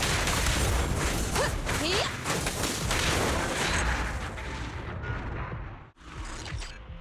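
Sustained gunfire and artillery from the mobile action game Zenless Zone Zero, dense overlapping bursts and booms forming a loud continuous barrage that thins briefly near the end before resuming.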